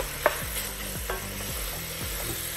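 Sausage browning in a pot of chili, with a steady sizzle and frying hiss running throughout, broken by several scraping, stirring strokes of a utensil against the pot bottom.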